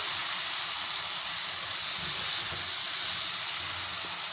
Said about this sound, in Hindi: इसको थोड़ा सा मसाले को थोड़ा सा भून लेंगे हल्का सा